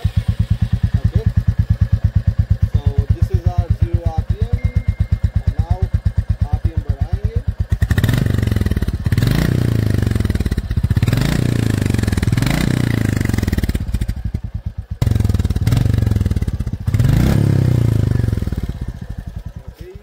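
A Royal Enfield Goan Classic 350 single-cylinder motorcycle runs close by with a steady, loud thumping idle, then several sharp throttle blips rise and fall in repeated revving bursts.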